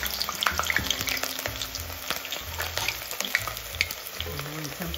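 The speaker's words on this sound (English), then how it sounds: "Okay, I'm starting off by frying the onion." Chopped onion frying in a hot pan for a pumpkin stew, a steady close crackling sizzle with occasional stirring clatter, no voices.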